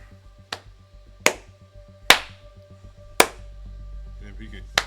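Sharp claps hit a microphone right up close, four loud spaced cracks over softer tapping, with faint voices and a low hum in the background.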